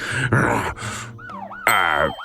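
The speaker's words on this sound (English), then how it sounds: "Why is there a police siren?" A cartoon police car siren wails in rising and falling sweeps, loud and close, interrupted by short vocal gasps and groans.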